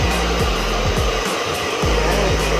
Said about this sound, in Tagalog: Tapos, let's continue the blower.